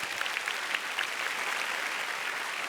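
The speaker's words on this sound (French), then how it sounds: "on applaudit ça, c'est beau" Applause from a comedy-show audience, a steady wash of many hands clapping at an even level for the whole stretch, with no talk over it.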